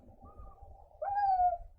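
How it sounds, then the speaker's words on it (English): A pet cat gives a short chirp while watching out a window, a brief rising trill over quiet room hum after a faint earlier note. "My cat just chirped."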